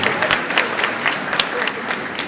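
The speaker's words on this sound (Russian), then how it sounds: "Ваши аплодисменты." Steady, full applause from an audience fills the whole stretch, dense clapping without a break and no voices rising above it.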